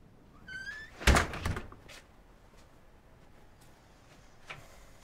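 A front door in a family home opens and closes with a thunk and rattle, followed by a quieter knock later, against a faint background.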